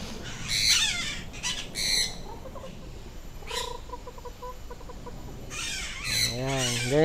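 Chickens cluck and squawk in scattered bursts at Singapore Zoo, some calls loud and close, with a sharp drawn-out squawk at the end and possible faint voices.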